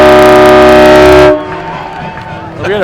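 An air horn blares loudly at a college football game after a touchdown, a sustained blast cutting off after about a second, followed by crowd noise and talking commentators.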